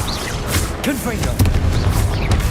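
A Confringo spell blast in Hogwarts Legacy, a booming fiery burst that cracks out over a busy game mix while a voice speaks nearby.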